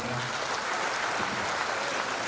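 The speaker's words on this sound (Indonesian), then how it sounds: "Tepuk tangan buat Pak Sekjen kita." Applause from officials and guests at a ministry handover ceremony, a steady, fairly soft wash of clapping with a faint voice briefly audible at the start.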